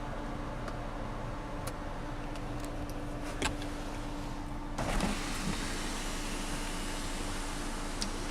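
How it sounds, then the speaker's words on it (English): Power windows in a high-mileage Ford Fiesta whirring steadily inside the car, a low continuous motor hum with a faint thump near the midpoint, no talking. "All the windows still work."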